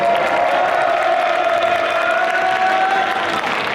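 A school festival audience claps and cheers to welcome a teacher guest onto the stage of a quiz show, a dense, steady wash of applause that holds at full strength from start to end.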